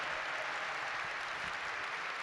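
Steady, dense applause from a large crowd, continuous and fairly loud throughout with no pauses.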